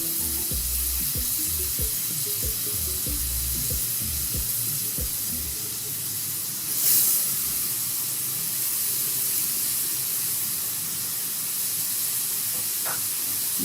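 Grated pumpkin frying in a pan for pumpkin halwa gives a continuous, even sizzle and hiss, close up, with no voices.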